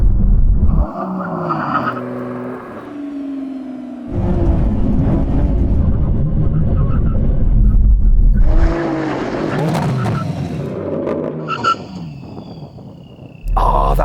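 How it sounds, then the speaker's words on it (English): A Lamborghini Revuelto at a drag race makes a full emergency stop, loud engine and tire noise with skidding bursts rising and cutting out across several seconds, close and dominant, with other cars roaring nearby. "Here comes the line, full emergency stop."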